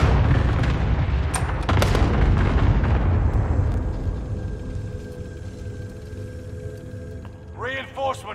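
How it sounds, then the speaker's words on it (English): A Battlefield cluster strike sets off a rapid barrage of loud, heavy artillery booms that rumble and fade into a lingering low wash, with a brief voice near the end. "Call for fire. Got your request. Cluster strike is active."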